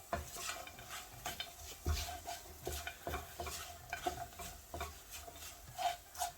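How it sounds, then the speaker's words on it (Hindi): Dry coriander powder, salt and other spices stirred together in a pan over low flame, with a rhythmic scrape-and-tap of a spoon against metal under a faint sizzle. "इन सब चीज़ों को अच्छे से मिक्स कर लेंगे।"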